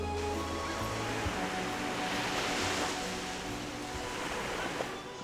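Sea waves wash onto a Turkish shore in a constant roaring surge, swelling slightly in the middle before easing, with a low hum beneath and no talking.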